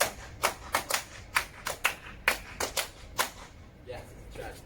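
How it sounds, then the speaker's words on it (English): Hands clapping the syncopated footwork rhythm of a Lindy Hop step, about a dozen sharp close claps in a swung pattern that fades out toward the end, with a faint voice underneath. "We're going to clap you the footwork rhythm to begin."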